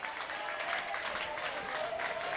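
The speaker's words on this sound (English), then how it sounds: "The crowd cheering these runners on this amazing, amazing effort." A crowd at a school sports day in a stadium cheers and claps for runners, a steady wash of applause and shouts from a distance, with a commentator talking over it.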